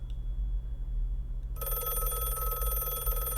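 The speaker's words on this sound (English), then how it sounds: "a red light blinked rhythmically on his home phone before it rang again" A home telephone starts ringing loudly after a quiet, low hum, its electronic ring tone steady and continuous through to the end.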